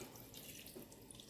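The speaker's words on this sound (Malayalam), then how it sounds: "ഇച്ചിരി വെള്ളം ഒഴിക്കണം കേട്ടോ" A steady, soft stream of water pours into a pot of chicken curry, running continuously without a break.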